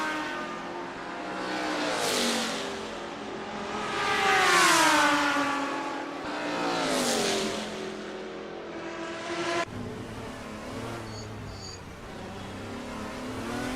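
GT race cars lapping Spa-Francorchamps in Assetto Corsa, engines rising and falling through gears as several cars pass close together, loud and continuous with no talk.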